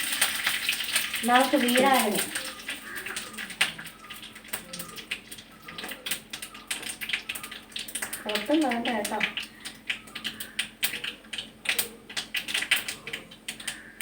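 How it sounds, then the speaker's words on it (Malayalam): Mustard seeds crackling and popping in hot oil in a home kitchen, a dense spray of small sharp crackles running under a woman's speech throughout. "കടുക് പൊട്ടിക്കുമ്പോൾ ഇങ്ങനെ മറച്ച് വെച്ച് അടച്ച് വെച്ചൊക്കെ പൊട്ടിക്കണേ"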